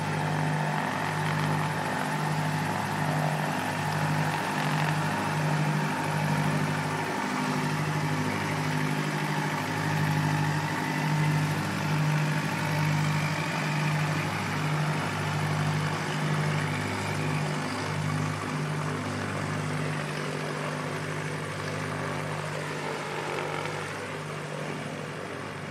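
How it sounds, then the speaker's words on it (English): An aircraft engine drones steadily at Christchurch Airport on a foggy day, a loud, continuous propeller-like hum with a pulsing low beat that holds for the whole stretch and eases slightly near the end, with no talking. "That's an awesome looking aircraft."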